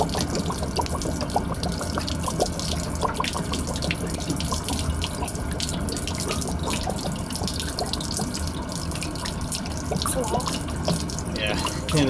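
Water drains steadily from the plumbing of a 2012 Keystone Passport 3220 BH travel trailer during winterizing, a continuous rushing, splashing flow that runs unbroken and fairly loud throughout.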